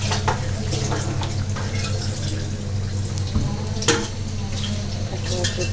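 Duck frying in a pan on low heat gives a steady, close sizzle and crackle, with an occasional stirring clatter and faint background voice.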